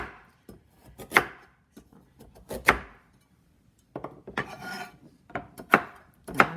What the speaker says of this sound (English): slicing these carrots up